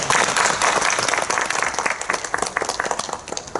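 A church congregation in worship claps together in praise, a thick wash of applause that starts full and gradually thins into looser, scattered claps toward the end.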